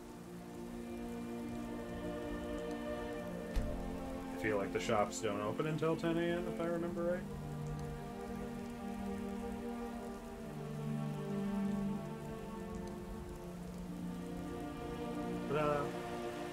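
Heavy downpour in the video game Skyrim, a steady even hiss of rain running throughout at moderate level, with someone talking over it and a few brief game sounds rising above the wash.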